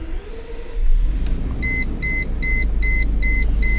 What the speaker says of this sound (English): So let's just start this car up.